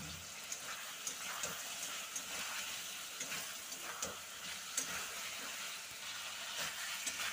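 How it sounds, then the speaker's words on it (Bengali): Spices sautéing in a pan with a splash of water and green chillies for a fish curry, giving a continuous bubbling sizzle with small scattered pops and crackles at moderate loudness. "এবারে একটু জল দিয়ে কষিয়ে নেব, নাহলে মশলাগুলো পুড়ে যাবে।"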